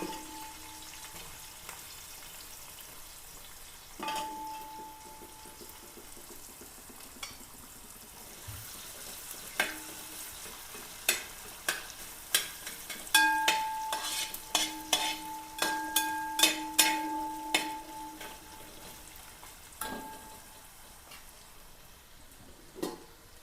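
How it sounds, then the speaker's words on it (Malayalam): Sliced onions frying in hot oil for tiger prawn biryani, a soft steady sizzle broken by sharp clinks and scrapes of stirring, with a short run of clattering near the middle. "ഇനി നമുക്ക് ഇതിലേക്ക് അല്പം സവാള വറുത്ത് കോരാം"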